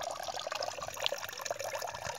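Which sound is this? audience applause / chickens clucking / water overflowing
water overflowing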